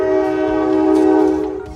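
A passing train sounds its horn in a long, loud, steady blast that holds for most of the moment, then begins to fade as the train moves on.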